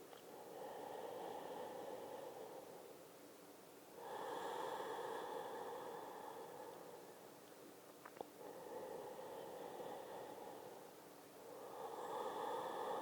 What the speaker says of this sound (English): Let your breath fire up, maybe engaging an ujjayi breath.